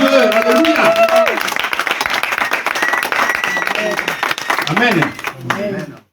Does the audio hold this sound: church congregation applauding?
yes